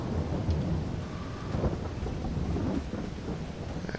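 Steady rain falls in a forest with broadband patter and low rumbling, loud and continuous throughout with no voices.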